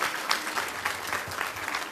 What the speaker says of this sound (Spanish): Pedimos un aplauso, un compañero valioso.